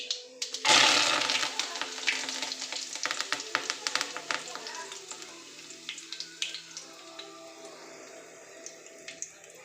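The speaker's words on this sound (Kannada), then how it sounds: "ಸಾಸಿವೆ ಚೆನ್ನಾಗಿ ಸಿಡಿದಿದೆ ಈಗ ಕರಿಬೇ ಸೊಪ್ಪು ಹಾಕ್ತೀನಿ" Mustard seeds and curry leaves crackle and sizzle in hot oil, a loud burst of frying at the start that settles into steady spitting with scattered sharp pops, close up and with no talk.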